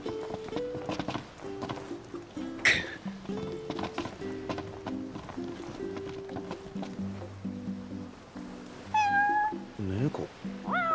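A cat meows in the video game Final Fantasy XV, with several clear meows heard alongside game music and clip-clop sounds, under occasional talking.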